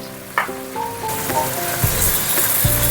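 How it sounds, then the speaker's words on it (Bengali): Sliced onions are dropped into well-heated oil to fry crisp as birista for white pulao, bursting into a loud, continuous sizzle after about a second, with faint clinking and tones before it. "তেলটা ভালো মতন গরম হয়ে গেছে। এবার এই পেঁয়াজগুলো দিয়ে দিই।"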